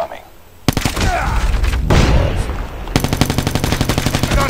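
Automatic weapon fire in Call of Duty Mobile, loud rhythmic rifle bursts that start sharply, pause briefly, then resume as a steady rapid cadence of distinct shots.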